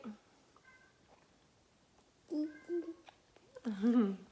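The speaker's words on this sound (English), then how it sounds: "our kitty is meowing." A cat meows a few times, short high cries spaced apart with a louder pair near the end, over a quiet background with faint voices.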